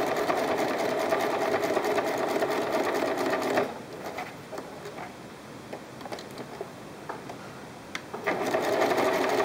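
A sewing machine stitches the edge of a fabric bean bag. Its rapid, steady whirr runs loud and close, drops away to quiet ticking for a few seconds at the pivot turn, then starts up again.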